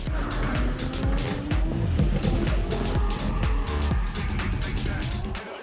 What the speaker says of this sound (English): We have arrived to the sound of a 2J running on track.